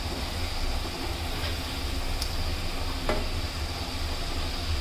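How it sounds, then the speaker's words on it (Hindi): Potato chips deep fry in oil at home, producing a dense, steady crackling hiss that continues evenly from start to finish with a few faint clinks. "ये देखिए इस वक्त हमारी जो चिप्स है वो जी फ्राई हो रही है।"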